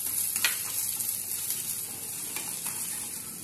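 Dal frying in a pan with a chopped green chilli: a steady, moderate sizzle with a few soft stirring scrapes, and no voices.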